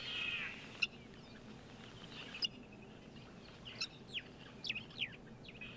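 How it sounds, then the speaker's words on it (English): A couple of starlings call outdoors on a quiet morning, giving short, sharp chirps and whistles that come in scattered bursts, mostly in the latter half, moderately distant over faint background noise. "A couple of starlings calling too."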